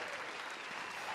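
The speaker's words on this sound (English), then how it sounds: "everyone just keep clapping" Steady applause from an audience fills the short stretch, dense and continuous with a faint cheer mixed in and no break.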